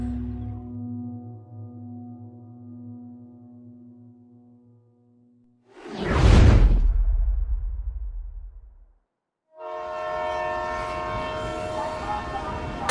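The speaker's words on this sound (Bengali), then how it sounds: "কানে তালা ধরানো হুইসেল ছেড়ে ট্রেন ঢুকলো জয়নগর মজিলপুর রেল স্টেশনে।" A train entering Joynagar Majilpur railway station sounds long sustained horn blasts, then a loud rushing roar of the passing train, then another bright ringing whistle after a brief silence.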